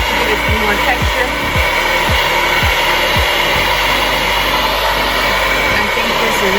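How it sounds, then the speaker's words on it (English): T3 Featherweight rose gold blow dryer running, a loud, close, continuous airy whoosh and motor whine with faint rhythmic low thumps underneath. "I think this is an excellent blow dryer."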